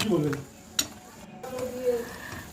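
A spoon stirs sugar into chalta chutney in a pan, with a few soft scrapes and one sharp clink against the pan, close by and fairly quiet, while a voice is faintly heard at the start.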